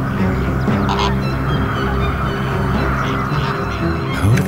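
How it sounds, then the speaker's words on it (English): A starving, clamoring horde of young flamingo chicks in a colony: dense, continuous overlapping honking and goose-like cries, loud and close throughout, with no talking. "each adult must find his own chick in the middle of a starving, clamoring horde of young flamingos"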